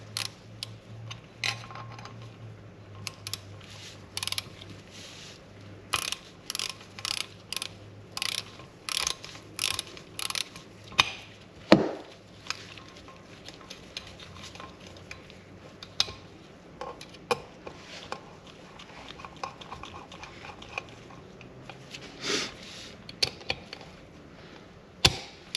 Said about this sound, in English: I'm just going to run these down, and then once they're all the way down,